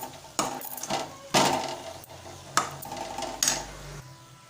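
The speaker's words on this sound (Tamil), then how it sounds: "இதை நல்லா வதக்கிக்கலாம்" Elephant foot yam being sautéed with masala in a pan: several clattering scrapes and knocks of a spoon against the cookware at irregular intervals over a low, faint sizzle.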